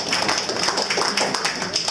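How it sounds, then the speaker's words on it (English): Audience at a memorial gathering clapping together, a dense, close patter of many hands in quick irregular rhythm, with voices mixed in. "You can clap."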